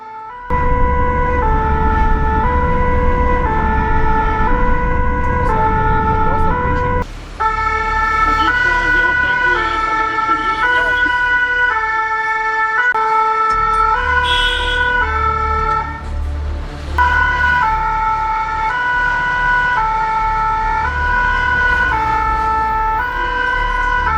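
Fire engine sirens wail continuously while responding to a road accident, a loud, close, repeating two-tone pattern over vehicle engine noise throughout.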